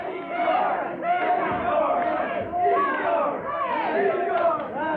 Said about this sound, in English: And the crowd love this.